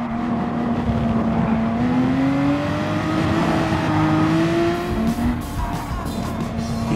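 Race car engines droning loudly in GT Sport on PS4 during a close battle, with a steady rising engine tone shifting pitch as the cars accelerate and brief tire squeals toward the end.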